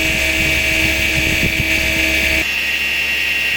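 A budget log splitter's motor runs steadily at about 4200 rpm, a loud continuous mechanical hum with a bright whine. Partway through, the lower drone cuts away and a hissing whir carries on alone.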